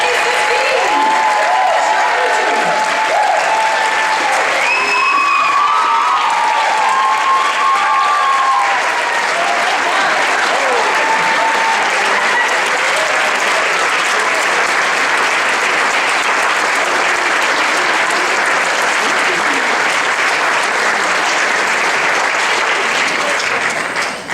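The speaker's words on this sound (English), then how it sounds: "let's give a big round of applause for our graduates of 2015" A large audience at a graduation ceremony applauds the graduates, a loud dense wash of clapping sustained for over twenty seconds, with some cheering near the start.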